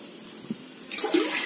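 Water splashes and gushes for about half a second, pouring into a biryani cooking pot after a quieter stretch, moderately close with a wet rushing texture.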